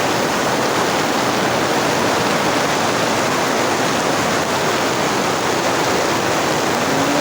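Floodwater rushes in a loud, steady roar that fills the whole stretch without a break, like a nearby torrent or waterfall, with no voices over it.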